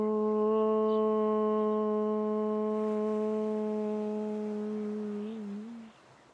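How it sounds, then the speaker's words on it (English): A single long, steady chanted "Om" from a deep voice, resonant and sustained for several seconds before tapering off into quiet. "let's chant one sound of Om together"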